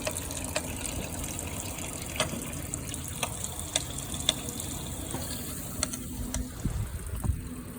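Water runs steadily through the radiator of a 1946 Chevy truck being flushed outdoors, a soft continuous trickle and rush with scattered faint clicks and knocks, fairly quiet and close, no voices.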